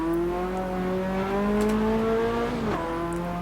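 Race car engine in Assetto Corsa, a steady rising drone with a high straight-cut gear whine layered over it, climbing in pitch then dropping briefly at a gear shift before settling again, close and continuous.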